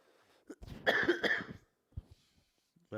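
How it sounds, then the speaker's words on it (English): A man coughs in a harsh burst of several rapid hacks, close to the mic, followed by a couple of quieter breaths and a throat noise, with no talk. "this cough's killing me."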